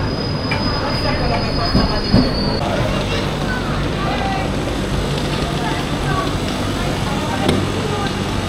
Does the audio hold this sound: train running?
yes